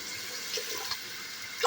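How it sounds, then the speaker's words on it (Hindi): Water pours into a pot of lentils for a village-style Punjabi daal, a soft continuous splashing stream that swells slightly near the end, with no talk. "अब मैं इसमें पानी ऐड करूंगी।"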